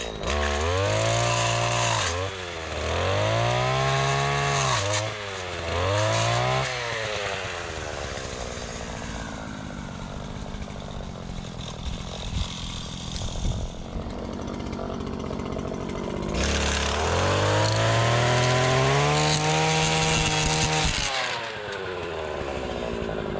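A brush cutter with a six-tooth trimmer head revs and cuts through plant stems. The engine rises and falls in repeated surges, bogs as it chews into thicker growth, and then roars back loud and close.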